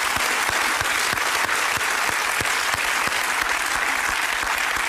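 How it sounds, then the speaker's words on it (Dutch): Sustained, loud audience applause in a quiz show studio as a contestant departs, with distinct sharp claps standing out from the dense, even clapping throughout. "Ik stuur je in elk geval naar huis met een geweldig applaus"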